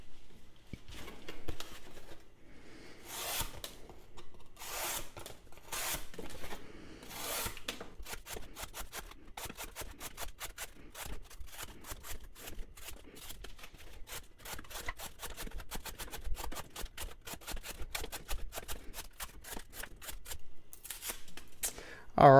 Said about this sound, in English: we're going to cut up some cardboard with the factory edge